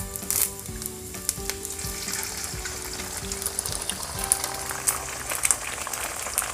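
Eggs frying with garlic in a hot oiled pan for a stir-fried instant noodle dish with cabbage, crackling and sizzling steadily up close, with occasional scraping of a spatula against the pan.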